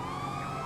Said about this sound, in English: As you can hear the sirens.